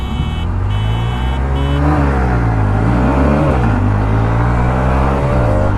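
Two motorcycles, a Honda Hornet 125 and a 2025 Hero Xtreme 125, rev hard off the line in a drag race. Their engines rise in pitch through several gear changes, loud and steady with no talking over them.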